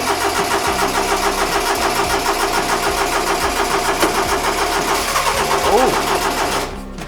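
A 1992 Honda micro bus engine cranks over in a rapid, steady churning rhythm for several seconds, close and loud, before trying to catch near the end.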